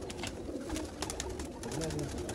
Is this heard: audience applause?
no